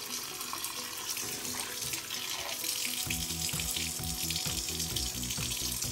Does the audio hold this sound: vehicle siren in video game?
no